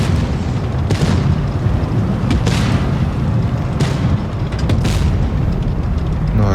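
Tank cannon shots in World of Tanks Blitz, with several sharp booming reports standing out over a dense, steady roar of battle noise and engine rumble, all fairly loud and close.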